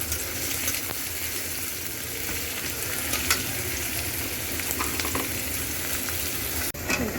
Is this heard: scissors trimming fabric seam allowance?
no